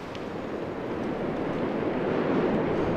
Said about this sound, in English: So it's a windy afternoon here in Brooklyn.